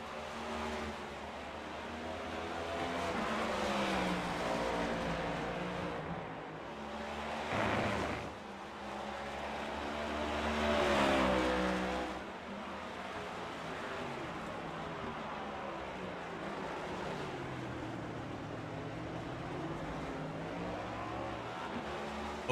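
Race cars in a racing video game at Sonoma Raceway roar continuously as several engines rev hard and shift gears, with pitch sweeping up and down throughout and no voices.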